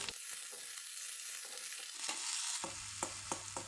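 Shewali (night jasmine) flowers and chopped ginger fry softly in a pan for an egg stir-fry. A quiet, continuous sizzle carries a few sharp spatula scrapes near the end.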